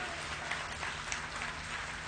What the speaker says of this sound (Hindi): अरे भाई तालियां बजानी हो तो जोरदार बजाओ, नहीं तो नहीं बजानी चाहिए।